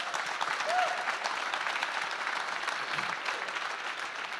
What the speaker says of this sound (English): Let's give Nick a round of applause